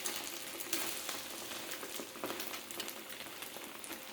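An omelette sizzles steadily in a pan just after being flipped, a close, dense frying hiss with faint crackles running throughout, no one talking.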